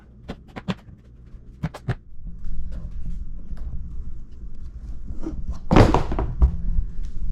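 Unpacking a shipping box containing a Hungarian SVD Dragunov rifle: scattered thumps, taps and knocks of handling, then a longer scraping rustle of cardboard and packing, close by and without speech.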